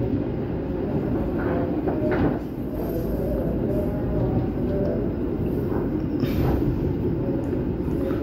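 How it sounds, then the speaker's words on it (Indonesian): Argo Parahyangan passenger train slowing as it enters Jatinegara station, a steady loud rumble of wheels on rail with faint squeals and clatter throughout, no voices. "kereta api Argo Parahyangan mulai melambat memasuki stasiun Jatinegara"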